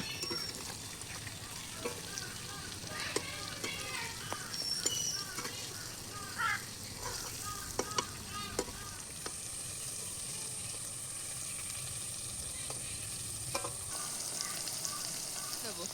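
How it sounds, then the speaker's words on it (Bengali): Ash gourd slices fry in a pan with chilli and fenugreek, a steady hiss of oil running throughout with scattered scraping and stirring clicks, close by. "লঙ্কা আর মেথিটা লাল লাল হয়ে ভাজা হলে চাল কুমড়াটা ভাজছি,"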